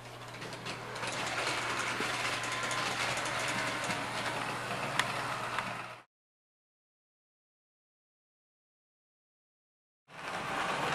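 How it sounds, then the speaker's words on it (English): A small S-gauge model train rattles and clicks steadily along its track for several seconds, then silence, before the mechanical running noise starts up again. "Here's our train coming around for the second time."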